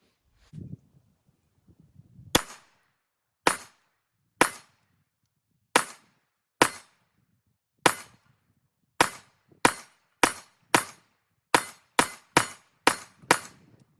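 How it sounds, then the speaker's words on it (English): A Glock pistol with a milled slide being fired outdoors, fourteen sharp loud gunshots, first spaced about a second apart and then coming in a quicker string toward the end, with no talking. "Now I'm going to be shooting the milled slide."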